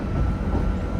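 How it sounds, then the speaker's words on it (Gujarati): A London Underground Jubilee line train rumbles in at the station, a deep, loud, continuous low roar with a rolling rail drone, heard close and without voices. "અમારી ટ્રેન આવી ગઈ છે, જ્યુબલી લાઇન."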